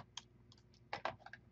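Typing a password on a computer keyboard: a short run of light, quiet key clicks in irregular clusters, with a couple of louder taps near the end, heard alone with no talking.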